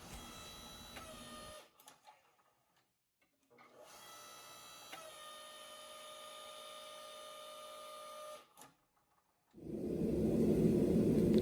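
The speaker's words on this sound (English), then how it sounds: "when the ram is in operation and comes in contact with the die, there's no deflection" A forge press converted from a 5-ton electric log splitter runs with a steady mechanical hum and whine, pausing twice in near silence before a louder, rough pressing sound at the end; no one speaks.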